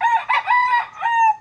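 A rooster crows loudly and close by in a backyard coop area among free-ranging Rhode Island Red and native chickens, a single drawn-out cock-a-doodle-doo lasting about a second and a half.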